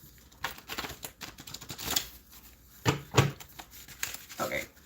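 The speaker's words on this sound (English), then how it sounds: "this deck don't want to shuffle" Cards are riffled and shuffled in several short bursts of papery flutter and snapping, close up.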